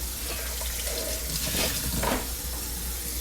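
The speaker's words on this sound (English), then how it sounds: "I'm rinsing this bucket out." Water runs from a tap into a bucket being rinsed out, a continuous close hissing splash with a brief surge of louder splashing midway.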